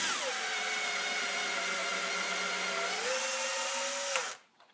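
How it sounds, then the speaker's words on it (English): A power drill bores straight through a 3/4-inch piece of wood while making a candle holder, drilling down to a countersink. The steady, loud whine holds for about four seconds, drops in pitch near the end, then cuts off. "Just drilling all the way through,"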